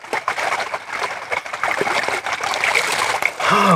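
Clear, clean stream water in the hills trickling and splashing over its bed, a lively close burble with small splashes and faint birdsong behind it.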